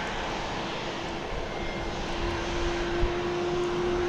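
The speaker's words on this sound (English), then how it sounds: "this plane from Denver coming in on 31 left" A passenger airplane from Denver comes in to land on runway 31 left at Dallas Love Field at night, a steady, moderately distant engine roar holding evenly for a few seconds with no voices.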